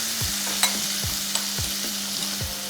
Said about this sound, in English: Also, we have minced garlic. Fry that for a few seconds, just like this.